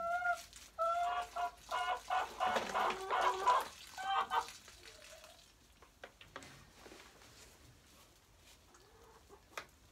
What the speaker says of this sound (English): This is one of my barred rock chickens that we raised from babies.